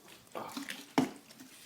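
Rubbing alcohol splashing out of a bottle onto a floor, a few quiet wet glugs and drips ending in one sharper splat, faint and close.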